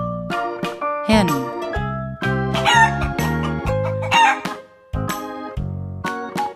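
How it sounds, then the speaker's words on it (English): Cartoon hen sound effect from a children's farm-animal animation: a loud, bright clucking and crowing call repeated in short bursts over a busy musical backing. "hen,"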